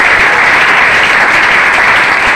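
A church congregation claps together in praise, a dense, steady burst of applause filling the whole moment without a break.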